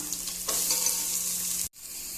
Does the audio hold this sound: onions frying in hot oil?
yes